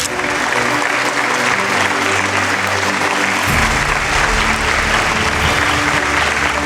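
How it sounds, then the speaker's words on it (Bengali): Audience applause at an academic excellence award ceremony honouring an engineering institute trustee, dense sustained clapping from a large crowd, loud and steady throughout. "একবার জোরে হাততালি হয়ে যাক।"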